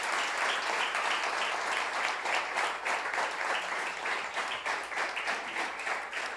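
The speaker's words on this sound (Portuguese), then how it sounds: "Aplauda ao Senhor, meus irmãos." Congregation at the Jubrac 2022 church retreat applauding together: sustained, fairly even clapping from a large group in a hall, lasting several seconds and easing slightly toward the end.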